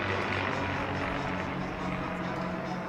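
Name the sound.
single-engine warbird fighter planes flying overhead at air show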